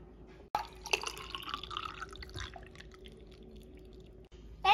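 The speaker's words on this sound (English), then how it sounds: "Now we have to pour the water in." Water is poured into popsicle molds in short splashing and trickling bursts, with small drips and light plastic clinks, close and quiet.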